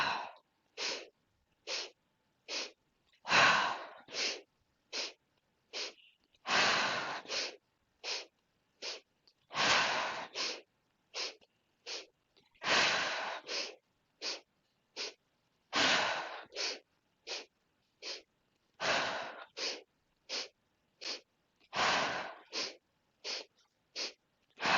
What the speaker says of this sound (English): So it's a three-part inhale through the nose and exhale through the mouth.